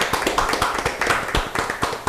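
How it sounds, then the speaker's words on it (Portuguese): An audience claps for the athletes of Balneário Camboriú after an athletics feature, a brief run of distinct, fairly rhythmic hand claps heard close and loud with no talk over them. "Vamos aplaudir todos os atletas de Balneário Camboriú."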